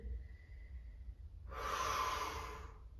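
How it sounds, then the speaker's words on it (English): A deep, audible breath drawn and released during a post-workout yoga stretching flow, one long airy exhale rising after a quieter pause, close to the microphone and alone. "Breathing."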